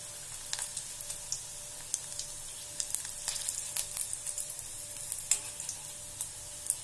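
Pattanam pakoda fries slowly in oil over a low flame, a faint, soft crackle of scattered pops and light bubbling with no talk.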